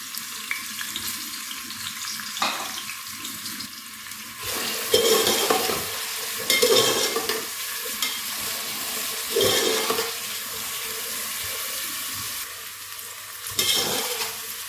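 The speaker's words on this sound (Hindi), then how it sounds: "मैंने मीडियम साइज़ के प्याज लिए जिनको बारीक काट लिया, ये ऑयल के अंदर ऐड कर देने हैं" Steady sizzling of finely chopped onions frying in hot oil, with intermittent louder bursts of crackle and stirring clatter, no voices.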